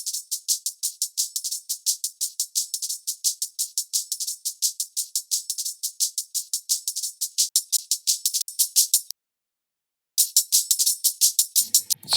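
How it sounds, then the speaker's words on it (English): A high-passed acoustic drum loop resampled from an old funk song, thin and bright, with steady rapid hits ticking along in a tight groove, pausing for about a second before resuming, with no voices. "Then I have another acoustic drums resampled from some"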